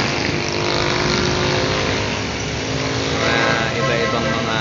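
Mixed street traffic in Tarlac City, cars, motorbikes and other vehicles passing in a steady, dense roar of engines and tyres, with voices mixed faintly into the continuous din.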